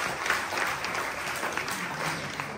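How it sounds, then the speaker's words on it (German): A crowd at a strong-beer festival in a hall applauds, a dense, steady clapping that fills the whole moment and stays loud throughout. "Klatscht einmal gescheit."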